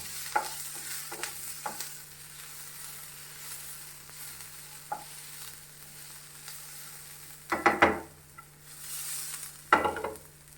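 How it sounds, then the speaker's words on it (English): Onion and garlic sauté for bhindi masala in a pan, a soft sizzle under a low hum, punctuated by a few sharp scraping stirs that grow louder near the end. "we will need to add garlic and saute till it becomes golden brown"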